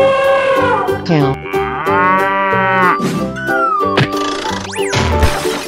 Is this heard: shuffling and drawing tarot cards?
no